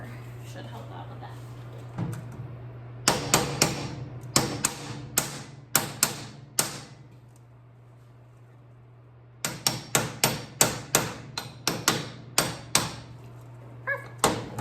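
Steel being tapped with a hammer ahead of MIG welding, a long run of sharp metallic strikes in two bursts separated by a pause, close and loud over a steady low hum.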